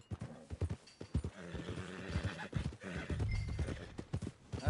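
Horse hooves clip-clop in the video game Red Dead Redemption 2, a steady rhythm of muffled, close steps mixed with game sounds and a brief whinny.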